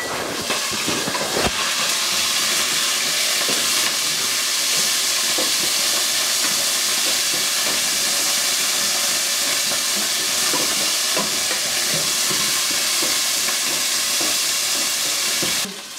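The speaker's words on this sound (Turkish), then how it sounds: "Yağımıza etlerimizi ekliyoruz." Meat frying in hot oil inside a pot, a loud, steady bright sizzle with crackling pops throughout, close up and with no talking.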